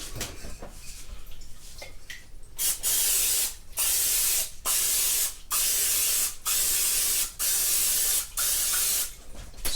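Cooking spray hisses onto a muffin pan in bursts, about six steady sprays separated by short pauses, close and fairly loud, after some quieter kitchen handling.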